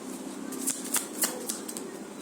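A deck of tarot cards is shuffled by hand in a quiet room, giving a soft riffling rustle with several light snaps as cards slap together.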